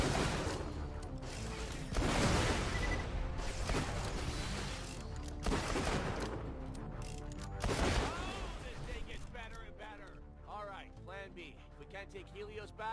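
Rapid turret gunfire and heavy blasts crash out in bursts during a firefight in Borderlands: The Pre-Sequel, loud and dense, while voices talk over the action.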